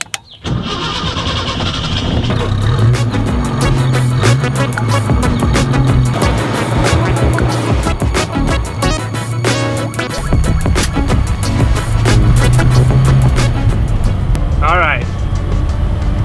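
A 1974 Datsun B210 engine cranks and catches, then runs steadily at a loud, close idle with a throaty rumble for the rest of the stretch, with people talking faintly under it.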